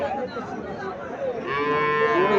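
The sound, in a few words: heifer calf mooing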